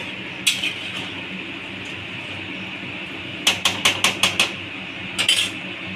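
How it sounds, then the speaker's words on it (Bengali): Salted taro leaf greens being stirred in a cooking pot, with a quick run of five or six sharp metallic clinks of a spoon against the pot, plus a few isolated clinks before and after over a quiet background. "এবার আমি এটাকে ভালোভাবে ভালোভাবে নাড়ব"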